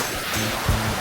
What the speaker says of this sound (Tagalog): maririnig nyo lang yung agos ng tubig ng ilog